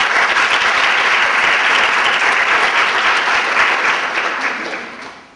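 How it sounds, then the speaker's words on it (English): A conference audience applauds its volunteers at a grants and fellowship event. Dense, loud, sustained clapping fills the room evenly, then tapers off over the last second. "Let's give them a round of applause, please."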